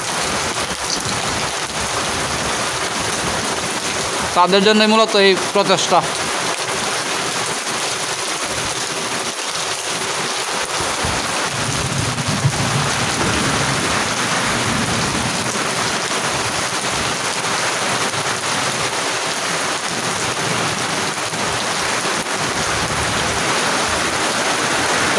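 Torrential village rain pours in a dense, constant hiss with deep low rumbles underneath, and a person speaks briefly partway through.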